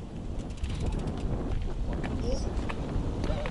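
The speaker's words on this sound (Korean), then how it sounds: "아, 바람이 불어가지고" Wind buffets the microphone on a high hilltop lookout reached by bicycle, a steady roar throughout while people talk nearby.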